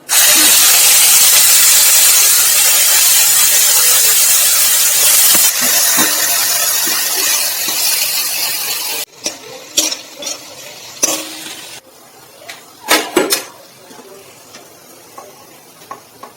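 Onions hit hot oil already used for frying fish and erupt into a loud, dense, hissing sizzle for about nine seconds, which then drops to quieter spattering with sharp scraping stirs and clatters.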